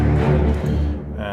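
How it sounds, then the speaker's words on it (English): Sci-fi trailer music cue: sustained orchestral strings under a repeating ostinato figure, dense and loud, with pulsing low notes and a slight dip in level toward the end. "So the strings and the ostinato sounds like this."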